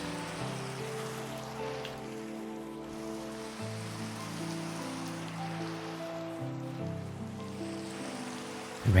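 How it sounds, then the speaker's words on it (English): Soft, steady rain falls across a calm video game landscape, a gentle hiss running beneath sustained, low musical tones with no voices. "The rain sounds are absolutely beautiful, just so calming."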